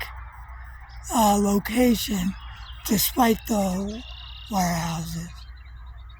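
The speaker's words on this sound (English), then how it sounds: "and at night we can hear the spring peeper frogs chirping away." Spring peeper frogs chirping at night near a marsh on a hilltop, heard as a faint, steady high-pitched chorus in the distance beneath someone speaking in bursts.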